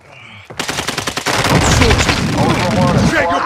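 Video game shooter gunfire: after a faint quiet start, a rapid burst of automatic fire breaks out, then merges into a loud, sustained barrage of overlapping shots and crackling impacts.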